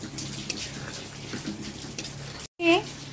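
Room-temperature water is poured into a cooking pot, a steady splashing rush heard close up, ending in a brief gap and a short clatter.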